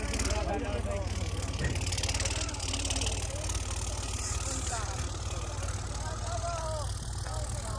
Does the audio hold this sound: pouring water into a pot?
no